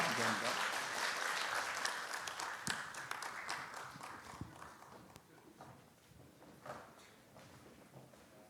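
A Korean church congregation at a Sunday afternoon service claps to close a ceremony, a broad roomy applause that is loudest at the start and gradually thins and fades, with a few scattered claps.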